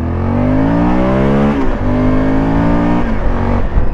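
A Honda Varadero 1000 motorcycle engine revs loudly and steadily, its pitch climbing, dipping briefly, then climbing again, close and continuous with no voices.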